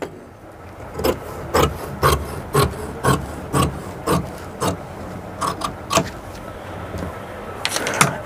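Scissors cut fabric along a chalked line while shaping a women's salwar pant, giving about a dozen crisp, close snips in a steady rhythm roughly every half second, then a brief pause and a few quicker cuts.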